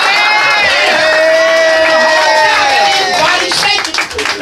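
Audience at a comedy show in a restaurant breaks into steady clapping mixed with cheers and whoops, loud and close throughout, easing off slightly near the end.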